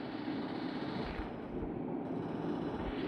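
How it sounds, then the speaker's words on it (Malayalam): Gunfire in the battle-royale video game Free Fire, a continuous dense crackle of rapid shots with low thumps, steady and fairly loud throughout with no talk. "അവിടെ എവിടെ നിന്നൊക്കെയോ വെടി വന്നുണ്ട്"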